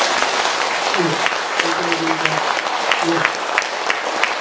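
Audience applause at a Buddhist dharma talk in Busan: steady clapping from a crowd throughout, with a voice speaking over it.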